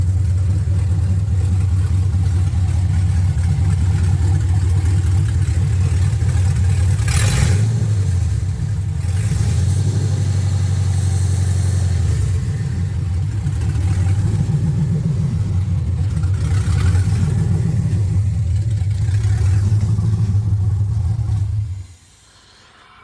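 A loud, rough LS V8 engine in a 1979 Camaro, running without exhaust, runs steadily with a deep rumble, briefly blipping the throttle a few times before cutting off abruptly near the end.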